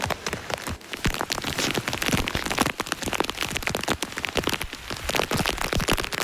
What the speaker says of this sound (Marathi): किती मोठ्यान पाऊस येतो बघा झाडा सगळी हलतं